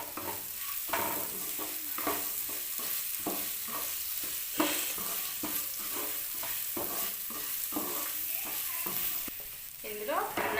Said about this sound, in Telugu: ఇప్పుడు ఇదంతా బాగా పచ్చివాసన పోయే వరకు ఫ్రై అవ్వాలి